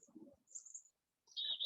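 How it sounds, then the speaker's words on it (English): Chickadees return to a yard feeder and call in short, high chirps, with a few brief notes near the start and a sharper, louder call at the end, outdoors with little else around. "Hey, now all the chickadees are back."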